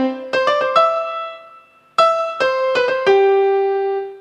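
Yamaha P keyboard custom voice layering two piano sounds, playing a short run of bright struck notes in two quick phrases, each note ringing and decaying cleanly, loud and close with no talk.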